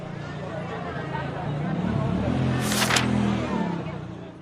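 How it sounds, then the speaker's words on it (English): A car driven by a farmer and his wife passes by, its engine noise swelling and fading over a few seconds with a brief hiss near the peak, beneath continuous background babble. "The farmer and his wife drive by in their car."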